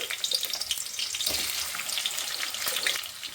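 Two sliced onions, with green chillies and curry leaves, fry in about four spoons of hot oil for a Rayalaseema chicken curry, producing a loud, continuous close-up sizzle with faint stirring.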